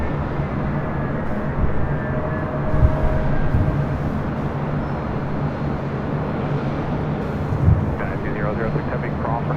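China Airlines Airbus A350-900 airliner at LAX, a broad steady jet roar from a distance, with people talking over it.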